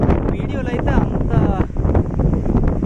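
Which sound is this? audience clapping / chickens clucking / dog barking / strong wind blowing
strong wind blowing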